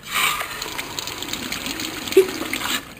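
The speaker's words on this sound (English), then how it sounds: "I'm going to turn the water on over here in the bathroom." Hot water runs from a bathroom tap with a worn aerator in a house with a boiler, a steady close hiss and gush that lasts throughout with no talk.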